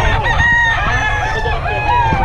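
Italian gamecock roosters crowing close by in a loud, continuous overlapping chorus of several birds, their calls layered over one another for the whole stretch.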